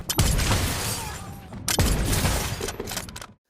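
Gunfire erupts in a film scene, two loud bursts about a second and a half apart, each trailing into a noisy, echoing clatter before the sound cuts off sharply.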